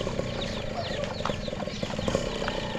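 Chickens, including a brooding hen, cluck softly and repeatedly close by in a short stretch of farmyard noise, with overlapping calls and a busy background.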